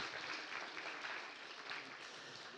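Church congregation applauding newcomers at a Sunday morning service, a steady wash of many hands clapping at moderate distance throughout, with faint voices mixed in.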